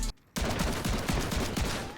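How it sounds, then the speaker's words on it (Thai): Rapid gunfire from a rifle in the video game Warzone fires in a dense burst after a brief silence, each shot trailing into a booming, rumbling echo. "ได้ยินเสียงปืนป่ะ มันจะมีเสียงแบบต่อท้ายแบบ เนี่ยฮะคือเหมือนฟ้าผ่า"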